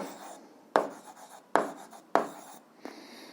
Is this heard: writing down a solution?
yes